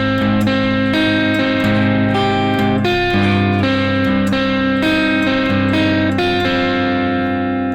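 Electric guitar plays a repeating picking pattern, plucked notes and low bass notes ringing with a slightly distorted tone, steady and close.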